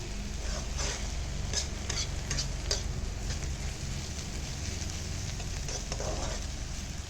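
Banana flower fry sizzles in a pan as it is stirred, with a continuous close frying hiss and scattered scraping and clinking strokes of the spatula.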